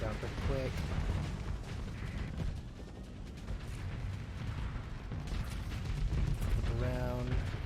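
Starsector ship weapons firing during a fleet space battle: dense rumbling artillery-like volleys and mechanical clanks that fill the whole stretch, with a rhythmic ratcheting pattern at the start and again near the end.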